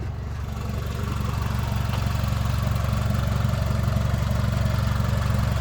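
A 2006 Mitsubishi Outlander engine idling: a steady, even low-pitched hum with a soft regular pulse, heard close and alone, with no one speaking.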